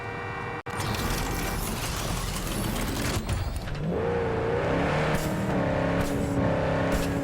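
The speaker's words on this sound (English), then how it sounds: "now I'm just going to be driving as far away from everything as I can" A car is driven steadily through an open video game world, its engine holding a continuous hum that rises into a higher revving tone partway through, with a brief cutout near the start and no talk over it.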